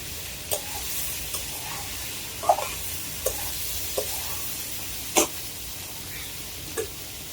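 A hilsa fish curry being stirred in a pan as it fries in its oil, giving a faint steady sizzle broken by occasional sharp scrapes and clinks of the spoon.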